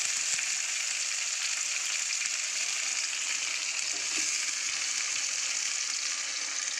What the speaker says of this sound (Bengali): আলু পেঁয়াজ একসাথে দিয়ে দিলাম।